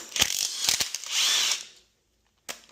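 Head bolts come out of a Toyota Supra engine: quick ratchet bursts and metallic clicks, near and fairly loud, with a short pause before a final tap.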